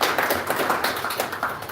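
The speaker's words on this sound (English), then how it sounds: "A huge round of applause to her." A crowd at an evening devotional gathering claps in a steady burst of many hands, dense and even throughout, with no talking over it.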